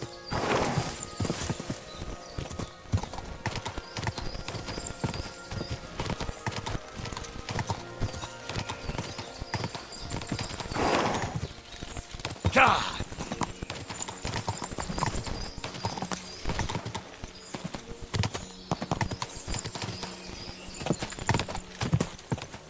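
Horse hooves clip-clopping in the medieval game Kingdom Come: Deliverance II, a steady rhythmic trot running throughout, with occasional whinnies and game sounds layered over it.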